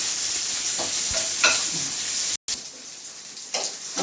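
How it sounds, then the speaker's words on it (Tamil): Dried red chillies sautéing in a hot pan for a spicy drumstick curry, a bright continuous sizzle with a few stirring scrapes, cut by a brief silent gap midway before the frying resumes. "ஏற்றி வச்சு நல்லா வதக்கணும்"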